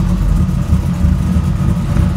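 A GM car engine fitted with a big camshaft idles up close, giving a steady, deep rumble with a slightly uneven, pulsing low-end throb throughout. No one speaks.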